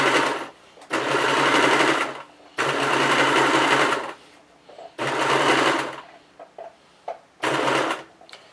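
Sewing machine stitching fabric for dice bags, loud close bursts of rapid whirring in four runs separated by brief pauses and small clicks.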